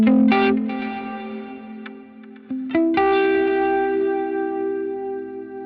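A Line 6 Helix Heliosphere delay with modulation on guitar: plucked notes and chords ring out and repeat in wavering, warbling echoes that smear into a sustained wash, loud and up close with no voices.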